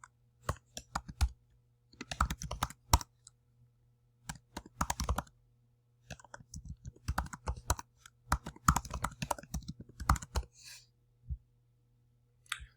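Fingers type on a computer keyboard in quick bursts of soft clicks separated by short pauses, close and fairly quiet with no talking.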